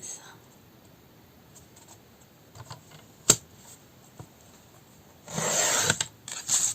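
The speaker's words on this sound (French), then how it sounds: "Alors, on va utiliser le massicot." Paper is cut on a paper trimmer (massicot): quiet rustling and handling at first, one sharp click, then a loud sustained rasping slice of the blade through the sheet followed by a brief second scrape.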